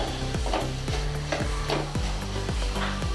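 Fenugreek leaves frying in a pan and stirred with a spoon, a steady sizzle broken by repeated scraping strokes at an even rhythm, close and clear with no talking.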